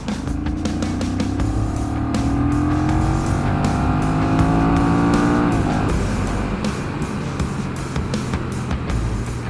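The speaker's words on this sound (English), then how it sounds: "So I'll come down into second gear, 30 mile an hour second gear. Let's just do a roll on." A Honda CMX1100 Rebel DCT motorcycle accelerates hard in a second-gear roll-on from 30 mph, its engine note rising loud and close before an automatic upshift drops the pitch, then continuing under wind noise.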